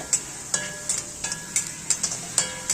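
Sizzling frying in ghee in a pan with repeated sharp stirring clinks and scrapes, close by, hissing steadily underneath.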